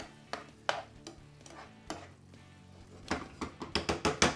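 Spoon stirring sugar into tomato sauce in a pan, a series of soft scraping and clinking strokes, sparse at first and then quicker and more regular toward the end.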